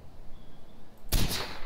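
A single gunshot in the video game Far Cry 4, a sharp loud burst after a quiet stretch of low game ambience, followed by a brief ringing tail.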